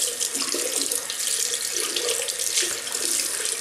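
Hot water gushes steadily from a tap into a sink to wet a shaving brush, a close, constant splashing stream with no voices over it.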